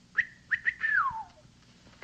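A man imitates a hunter's special game-calling whistle, giving three short bright whistled notes and then a longer note that slides downward, clear and close against a quiet background.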